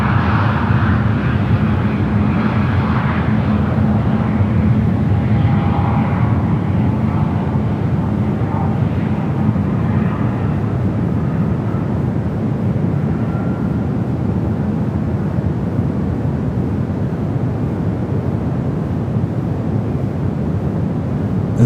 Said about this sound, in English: I don't think I've ever seen an Air India 777 from underneath the belly shot.